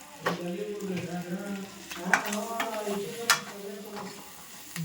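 Mutton seasoned with chilli powder and salt fries in a pan, a close crackle broken by a few sharp spoon clinks against the metal, with faint voice-like tones underneath.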